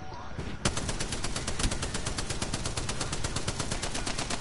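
Rapid sustained automatic fire from the Spitfire light machine gun in the shooter game Apex Legends, a fast even stream of loud close shots running nearly the whole time with no pause.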